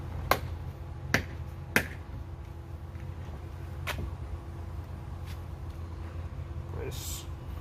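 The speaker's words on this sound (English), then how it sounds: "Press hard to hear that audible pop." Several sharp plastic pops as a Dodge Charger widebody kit flare clips into place, three close together and one later, fairly faint over a low background hum.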